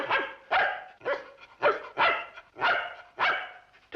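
A dog in a 1950 film barks repeatedly in an even rhythm, about seven loud, close barks over a few seconds, with nothing else heard.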